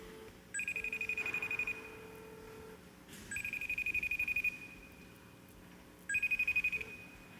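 An incoming WebRTC call placed from a Cisco phone to IceWarp rings in three separate electronic ring bursts at an even interval, clear and close with no speech.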